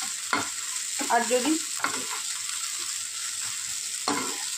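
Paneer pieces frying in butter in a pan and being stirred, with a steady sizzle, several scraping stir strokes and a short spoken phrase near the start.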